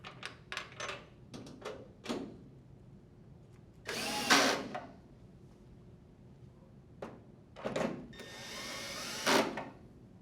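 A power drill drives screws into a dryer panel: quick, quiet whirring bursts, then two longer whines separated by silence, close by.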